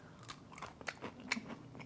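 A crunchy waffle cone made with cereal mixed into the batter is bitten and chewed up close, giving a few sharp, brittle crunches spread across a quiet moment.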